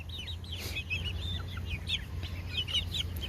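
A Delaware heritage-breed chicken clucks in a steady run of short, bright calls among other nearby fowl, fairly loud and close against a low background hum.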